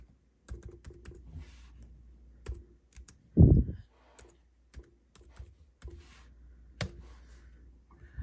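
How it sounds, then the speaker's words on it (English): Keys tapped on a computer keyboard in scattered, uneven bursts, with one heavier thump partway through, close-up and with no voices. "I'm going to type in pattern"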